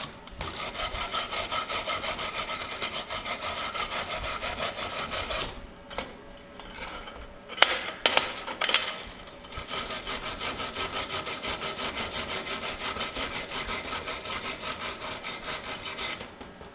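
Scraping a surface with a tungsten electrode on a welder, steady rasping strokes running continuously, pausing midway with a few scattered knocks before resuming the same even scraping.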